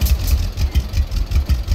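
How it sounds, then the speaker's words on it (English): A tractor engine in the logging game Lumberjack's Dynasty idles loud and close with a steady, low, rhythmic chugging pulse, and no voices over it. "So we're just going to take the tractor back to the lumber mill."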